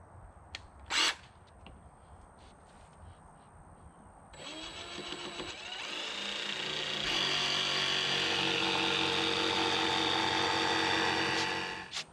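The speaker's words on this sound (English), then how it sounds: "I'm going to go ahead and cut it out with my jigsaw." A jigsaw cutting a plywood board for a DIY rear cargo plate on a Toyota 4Runner, starting after a few seconds of quiet shop noise and then buzzing loudly and steadily to the end.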